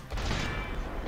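Enemy shotgun blasts in the action game Sekiro: Shadows Die Twice make a brief, loud, broadband burst with a booming low end that decays over about a second.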